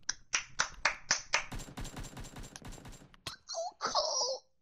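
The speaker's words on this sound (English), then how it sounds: "Round of applause" A short burst of hand claps or finger snaps, about six sharp hits in a steady rhythm, then a dense patter of clapping, ending with laughter and excited high voices, close to the mic.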